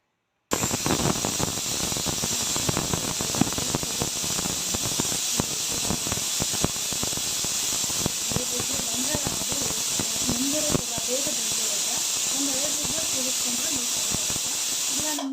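A pressure cooker whistles while cooking horse gram gravy, giving a loud, continuous steam hiss with a shrill squeal that holds steadily throughout, with a voice talking faintly underneath in the later part.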